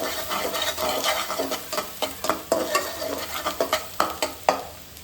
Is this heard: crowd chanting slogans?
no